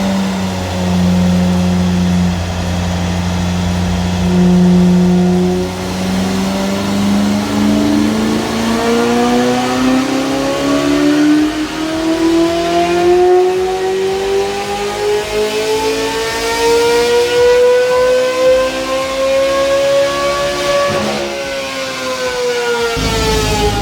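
Chevrolet Corvette C8 Z06 engine on a dyno, starting at a steady high idle, then revving up in one long climbing pull to a screaming peak before the throttle drops off, loud and close throughout with no talking.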